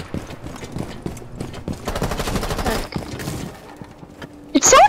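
Rapid bursts of gunfire from the video game Rainbow Six Siege, dense and rattling over a few seconds, with game sounds and voices around them and a sharp burst near the end.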